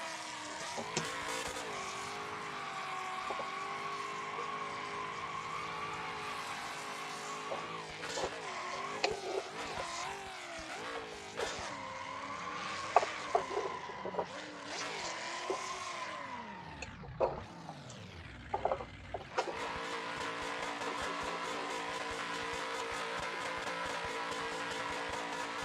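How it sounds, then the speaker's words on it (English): A BeamNG Drive car holds a fourth-gear burnout, its engine droning steadily at high revs with wavering pitch and tire squeal, dipping briefly near the end before roaring back to a sustained scream. "Let's see if this will do fourth gear burnout, which it should."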